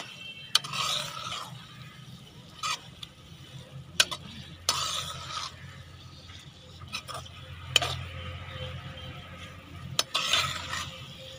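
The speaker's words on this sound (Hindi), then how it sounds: "अब इन चीज़ों को मिक्स कर लें।" A spoon stirs macaroni ingredients in a pan as they cook for an egg macaroni dish, with soft scraping strokes, light clinks of the utensil against the pan and a faint sizzle underneath.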